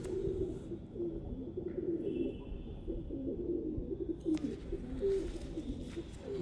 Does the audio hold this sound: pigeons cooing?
yes